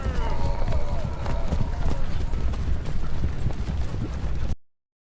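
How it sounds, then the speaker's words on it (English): Horses gallop in the Ultimate General: Civil War video game, a dense, continuous clatter of hooves at a steady loud level, with talk over it, cutting off abruptly near the end. "I definitely hear horses running"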